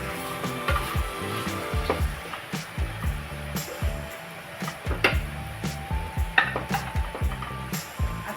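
Chicken for biryani sizzles in a pot while a utensil stirs and scrapes, with sharp clinks recurring throughout against a low hum.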